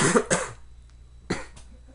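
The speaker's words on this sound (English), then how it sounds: "god-awful cough, which is really annoying the hell out of me right now" Two harsh coughs from a lingering cold burst out close by, the first a double hack, then a pause and another rough cough, with nothing else in between.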